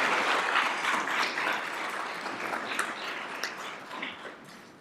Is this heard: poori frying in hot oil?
no